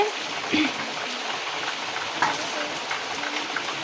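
Chicken sautéing in a pan with Gondhoraj lemon flavour, home-style, gives a steady close sizzle and crackle with scattered small pops, under a faint spoken voice.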